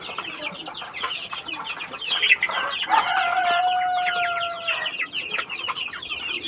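Desi chickens cluck and squawk excitedly together at close range after being given plants. Their calls come in busy overlapping bursts, with one longer drawn-out cry in the middle.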